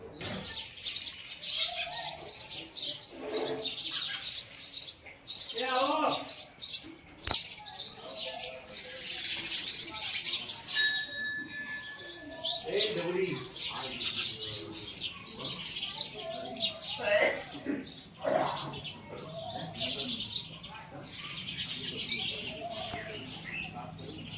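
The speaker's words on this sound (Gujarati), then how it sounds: "બહાર આવી રીતે ચકલીઓનો પક્ષીઓનો અવાજ વધારે થાય" Birds chirp and tweet steadily outdoors in a village, sparrow calls overlapping in a busy chorus with some cooing, and a voice occasionally murmurs underneath.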